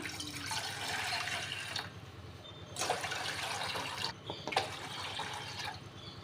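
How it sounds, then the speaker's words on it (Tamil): Three cups of water pour into a pan in three separate streams with short pauses between, a steady splashing rush heard close by with no talking. "மூணு கப் தண்ணி ஆட் பண்ணிக்கலாம்"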